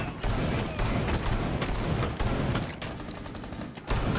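Gunfire in Rainbow Six Siege, rapid bursts of automatic shots crackling in quick volleys with brief pauses between, moderately loud and continuous over a busy game backdrop.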